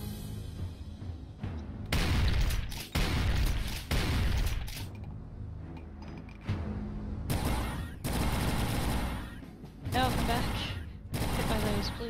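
Pistol fire in Doom II comes in repeated bursts of sharp shots with gaps between, loud and punchy throughout, with the game's other effects in the mix.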